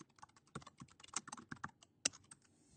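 Quick, irregular clatter of keys on a computer keyboard as office details are entered into a Blackboard course profile, soft and close with no voices.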